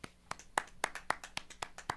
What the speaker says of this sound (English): I'll give this a clap.